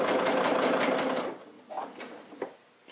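Sewing machine topstitching a patch pocket, a fast close rhythmic needle chatter for about a second, then stopping, followed by a few soft fabric-handling rustles and clicks.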